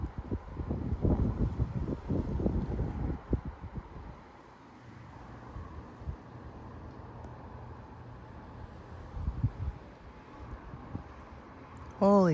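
Strong 30 mph wind gusts blowing outdoors in Frisco, Texas, a broad rushing roar that swells and fades in waves, loudest early on, with someone talking over the first few seconds and a brief sharp burst at the very end.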